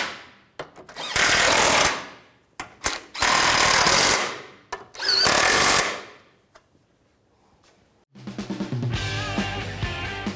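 A power tool tightens bolts on a four-wheel-drive actuator of a 2007–2013 Chevrolet Silverado, with three loud rattling bursts separated by short clicks and pauses, then a different mechanical whir near the end.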